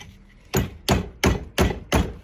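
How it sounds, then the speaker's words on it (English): Hammer striking to tighten bolts on a GM Hydroboost during a rebuild: five sharp metallic whacks in an even rhythm, close and loud, with a faint hum between blows. "Just a couple good whacks."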